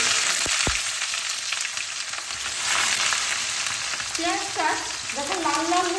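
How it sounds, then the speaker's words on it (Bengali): Onions frying in hot oil with bay leaf, dry cumin and dried chilli tempering for a fish dish, a loud steady sizzle with a couple of utensil knocks early on and faint tonal sounds near the end. "এবার পেঁয়াজটা এই তেলের মধ্যে দিয়ে"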